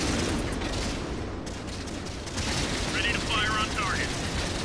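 Tank machine gun fire in World of Tanks crackles as a dense, steady rattle under continuous battle noise, loud and unbroken through the short stretch.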